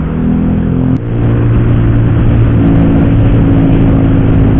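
A motorcycle engine drones loud and close, its low rumble holding steady with a brief dip before the revving resumes.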